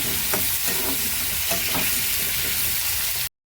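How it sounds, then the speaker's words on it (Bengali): Onions frying in oil with bay leaf, turmeric and potatoes in a pan, a steady dense sizzle with stirring clatter throughout, close and fairly loud, then cutting off abruptly near the end. "আর পেঁয়াজটাকে লাল করে ভাজা করবো"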